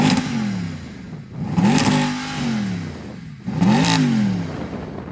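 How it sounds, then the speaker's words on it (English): Mercedes-AMG SLS Black Series V8 engine blipped through three sharp revs, each rising and falling away, loud and close with no talk. "Go and rev up the AMG."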